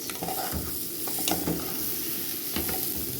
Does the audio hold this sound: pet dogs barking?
no